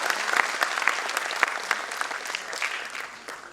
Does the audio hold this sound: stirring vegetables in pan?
no